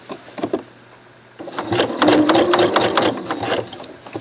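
A sewing machine running a twin needle topstitch along knit fabric, its steady motor whir and rapid needle clatter picking up after a few light taps and continuing close and loud to the end.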